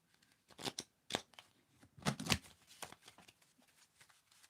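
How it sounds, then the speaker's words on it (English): A tarot deck being shuffled in quick, crisp riffling bursts, close and fairly soft, with a few gaps between clusters of card flicks and no talking over it. "When should I stop shuffling?"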